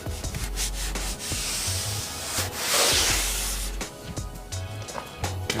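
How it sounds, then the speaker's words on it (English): Bondo body filler on a stepside truck bed is sanded by hand in close, continuous rubbing strokes, a rough abrasive hiss that rises and falls with each pass. "I'm gonna sand them just a little bit more."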